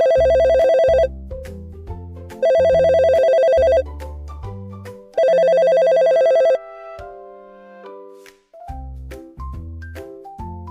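A telephone rings in three loud, repeated bursts of bright electronic trilling, separated by short pauses, with light music in between.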